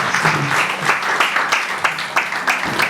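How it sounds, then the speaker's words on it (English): At a health-card launch event in Nigeria, an audience gives a round of applause, loud, steady clapping with pulsing bursts throughout the stretch. "A round of applause."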